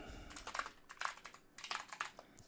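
Fingers type on a computer keyboard while writing a note in an app, in quick, close clusters of crisp key clicks with short pauses between bursts.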